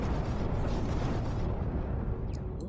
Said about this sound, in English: All of those massive explosions.